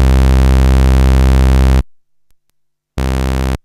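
A loud, buzzy synthesizer sawtooth tone holds steady, cuts to silence, then returns briefly for another short sustained note.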